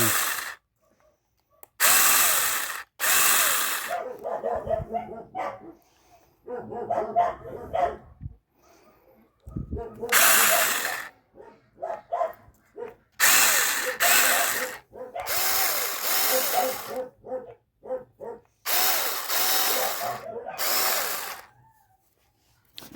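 A chainsaw with its chain being oiled by a manual pump revs in loud, repeated bursts, each a second or two long, with short idling gaps between them; the engine stays close and harsh throughout.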